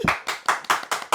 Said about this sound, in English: Give me a Wimbledon round of applause